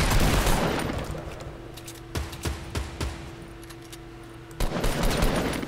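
Automatic gunfire in the battle royale game Fortnite, a loud burst of rapid shots at the start, then several separate sharp cracks in the middle, and another loud burst near the end.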